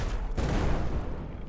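Cannon fire in a video game ship battle, a short dense burst of booming, rumbling shots with a crackling blast texture, loud and close.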